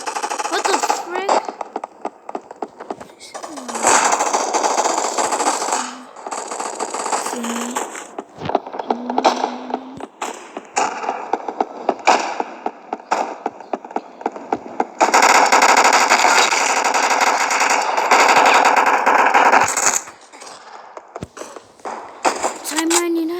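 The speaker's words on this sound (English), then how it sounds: "It's a gun." Video game gun fight with rapid bursts of automatic gunfire, loud and close, firing in repeated clusters with short gaps between them, while a player talks over the action.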